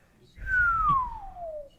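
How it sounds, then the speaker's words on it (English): A slide whistle glides steadily downward in pitch over about a second and a half, clear and fairly loud over a faint low rumble. "instant slide whistle down"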